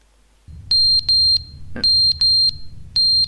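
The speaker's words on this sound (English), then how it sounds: "Smoke alarm? Oh, I can hear it. Oh, it's loud. Oh, it's really loud." A smoke alarm in The Stanley Parable: Ultra Deluxe sounds in loud, piercing bursts of rapid triple beeps, repeated several times, with a short thump between bursts over a low hum.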